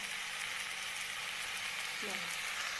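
Tomatoes and masala fry in a pan for matar paneer, giving a constant close sizzle that holds steady throughout with no pauses.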